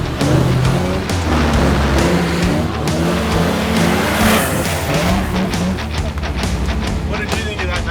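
A Toyota 40 Series Landcruiser grinds along a rough off-road track, its engine droning loud and close with shifting revs and clattering bumps throughout, while people talk over it.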